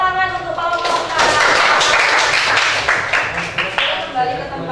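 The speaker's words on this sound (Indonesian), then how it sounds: "beri tepuk tangan untuk kelompok 4" Classroom of vocational school students clapping for a group after its presentation, a dense close burst of hand claps that swells and then fades over a few seconds, with voices mixed in.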